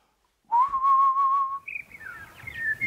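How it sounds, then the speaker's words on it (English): A person whistles through rounded lips, holding one clear sustained tone for about a second and then sliding into a few shorter wavering notes, close and alone. "You make your lips into an O shape like this, and then you gently blow."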